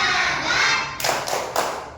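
A standing class of schoolchildren performs a rhythmic group clapping chant during a lesson, sounding as a few sharp, loud bursts of clapping close by.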